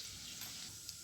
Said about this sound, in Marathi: जिरे छान तडतडून वरती आले